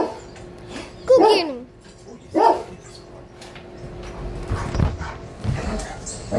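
A Great Dane barks while playing, with two loud, separate bark bursts standing out over a busy outdoor background and softer yips and noises afterward.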